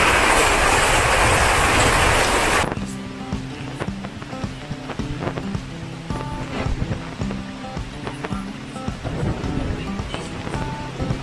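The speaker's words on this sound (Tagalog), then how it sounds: "Lakas ng ulan." Heavy rain heard while sheltering in a hut: a loud, dense roar for the first few seconds, then a sudden drop to quieter, irregular clattering and knocking sounds.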